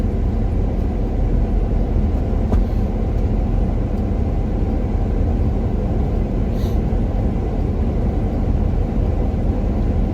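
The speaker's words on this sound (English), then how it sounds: "Traffic." Road traffic rumbles past near a parked 1986 pickup, a steady low roar of passing vehicles with no voices, unchanging in level for the full stretch.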